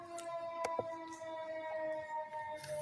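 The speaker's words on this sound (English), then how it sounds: "The sirens." A faint, steady siren tone drones in the distance, with scattered clicks and knocks over the quiet background.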